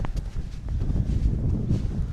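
Steady wind buffeting the microphone outdoors in the cold, sunny Peak District, a low continuous rumble with gusty swells throughout and no voices.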